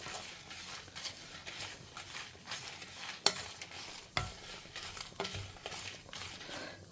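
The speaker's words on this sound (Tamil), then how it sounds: "கொஞ்சம் பொரியட்டும் அந்த கருவேப்பிலை" Curry leaves fry in hot oil with a soft sizzle under stirring, broken by occasional sharp taps and scrapes of a spoon against the pan.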